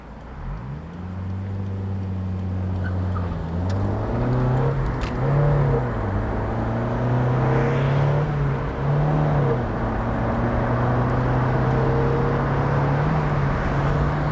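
A 1994 Mazda MX-5 Miata M Edition accelerates hard through the gears, its engine note climbing steadily then dropping at each shift, loud and close from inside the car with road noise underneath.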